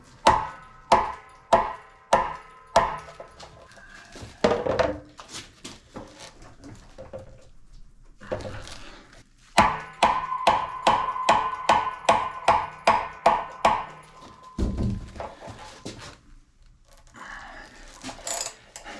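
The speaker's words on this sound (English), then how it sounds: "I like to use a mallet." Sharp metallic blows of a mallet striking a ratchet handle to break loose the anode rod on a new water heater tank, coming in rapid close bursts of a dozen or more strikes separated by brief pauses.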